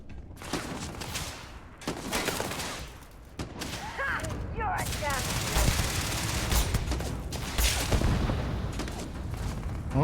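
Dense gunfire in the video game Starfield during a fight where a new sniper rifle is tried, rapid overlapping shots and booms filling the scene, with brief voices under the shooting.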